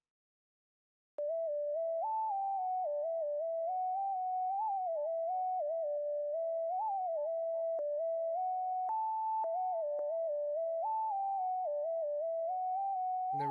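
A synth lead melody for a beat, treated with delay, boosted highs and cut lows, plays steadily and alone at moderate level with a wandering single-note line and faint echo.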